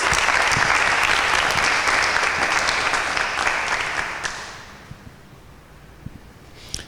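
Audience applause breaks out at a Bible quiz show, a dense wash of clapping that holds steady for several seconds, then thins and fades, leaving a few scattered late claps.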